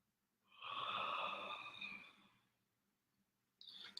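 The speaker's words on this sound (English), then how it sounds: "what works really well in those minis, in those 10 seconds, is a conscious yawn" A deliberate, drawn-out yawn: a breathy voiced swell rising over about two seconds and fading away, followed by a short breath or sound starting near the end, close and alone.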